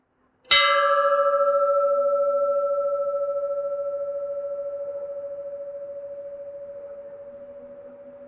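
Single strike of a temple bell, a sharp metallic hit followed by a long, clear ringing tone that slowly decays across several seconds, heard alone.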